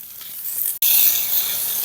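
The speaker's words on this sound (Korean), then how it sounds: "버섯이 숨이 죽을 때까지 또 다시 3분간 볶아주세요." Torn oyster mushrooms and softened onions stir-frying in a hot pan, a close, steady bright sizzle broken by one brief sharp scrape or pause near the middle, with no talk.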